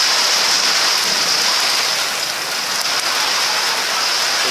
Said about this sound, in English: Some hard work running around in that rain and wind.